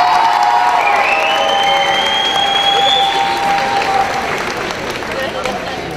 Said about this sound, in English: On applaudit les princesses.